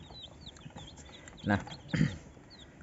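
Chickens on a poultry farm cluck and chirp faintly in the background while someone talks over them.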